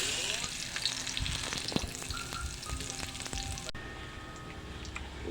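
Lemongrass, onion and garlic sizzle in hot oil, a dense crackling fry with scattered pops and stirring clinks, fairly close and steady, cutting to a quieter, duller sizzle in the last second and a half.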